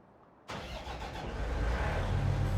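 A farm vehicle's engine in Farming Simulator 19 cranks and fires up abruptly after a quiet moment, then settles into a steady mid-pitched idle that swells slightly, heard alone without talk.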